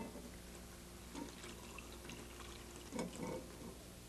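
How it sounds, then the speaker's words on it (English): Water pours steadily into an 8-quart pot over soaked beans, a soft continuous rushing with a couple of brief louder splashes, close and alone. "And then I cover it with water about 1 inch over the beans."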